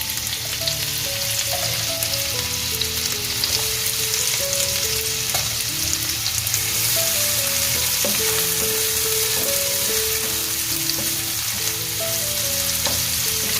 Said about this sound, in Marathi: पॅन ठेवलं आहे तापत आतमध्ये तेल घालून घेतलंय आता फोडणी द्यायची